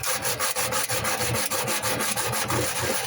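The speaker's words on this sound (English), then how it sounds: "if you get some kitchen foil, which is primarily made of aluminium, and you rub it" Kitchen aluminium foil is rubbed back and forth against rust inside a microwave, giving a steady, close, rasping scrub with regular strokes of about three per second and no voices.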